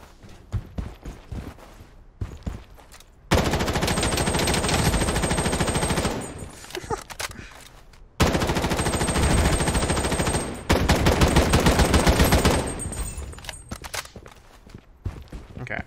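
M4A1 rifle gunfire in the video game Project BloodStrike, long sustained bursts of rapid automatic fire, loud and close, broken by short gaps with game footsteps and a bit of speech.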